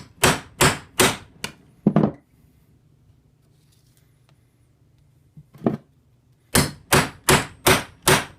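A .156-inch New River camp knife in 61 HRC AEB-L steel chopping through 12-2 electrical wire, sharp loud thunking strikes in quick rhythmic bursts of four to five, with a quiet pause between the two runs.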